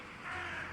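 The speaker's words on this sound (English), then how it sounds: "The sound that is happening is just crows with a filter on it." A single brief crow caw, altered by a filter, from a video game, heard faint and muffled against a low, steady background.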